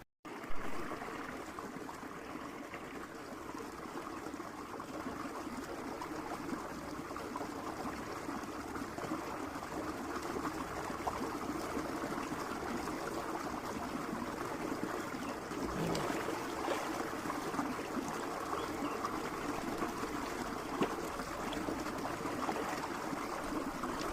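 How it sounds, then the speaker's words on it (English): A shower runs steadily and close by as a continuous broadband hiss of spraying water, unbroken and at an even level for the whole stretch, with no voices over it. "Taking shower now, shower time."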